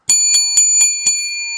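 A bell rings five times in a steady rhythm to mark winners, each clear bright strike close and loud, with a ringing tone sustained between hits and no voices.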